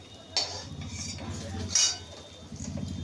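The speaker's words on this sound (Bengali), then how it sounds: "এরপর আমি একটা করে করে বড়াগুলো তুলে নিচ্ছি।" Fried lentil fritters lifted one by one from a frying pan, with a few scattered metal utensil clinks and scrapes against the pan over a low background hum.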